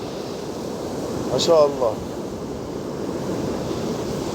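A stormy winter sea roars with a steady, broad wash of crashing surf and wind, and someone speaks briefly over it.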